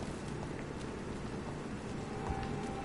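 Steady rain falls in the Vampyr video game, a soft, even hiss of drops spattering on surfaces that continues faintly and unbroken throughout.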